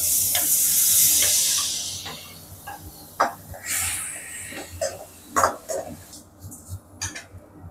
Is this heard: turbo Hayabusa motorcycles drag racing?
no